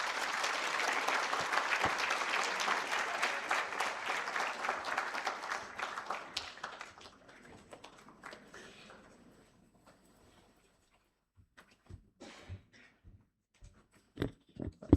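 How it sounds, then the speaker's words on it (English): A large audience at a health summit claps in a dense, sustained wave that thins and fades over several seconds into scattered last claps and near silence, with a few isolated claps and thumps returning at the end. "give our peers a better round of applause"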